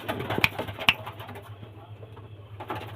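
Low, continuous cooing of pigeons at a pigeon sale in Bamangachhi, North Barasat, hums steadily beneath a couple of sharp clicks near the start, moderately close and unaccompanied by talk.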